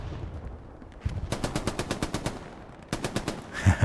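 Rapid bursts of machine gun fire in the video game Hell Let Loose, set at Kursk, with a steady stuttering run of shots followed by a second shorter burst, moderately loud and slightly distant.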